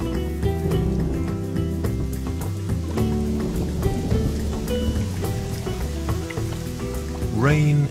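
Steady rain falls on a site where birds build a nest from mud and wet red clay, a continuous even hiss beneath background music.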